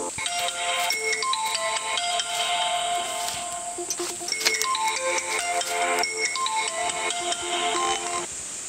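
A phone rings out while a call is being placed, its electronic melody repeating in bright, evenly spaced tones for several seconds with no voices.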